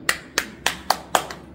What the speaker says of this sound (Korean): 너희 손으로 박수를 쳐라.